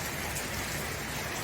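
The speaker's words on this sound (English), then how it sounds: "It's only been raining for about," Steady rain falls outside a garage during a summer shower, a dense, even hiss of drops hitting surfaces close by with no break.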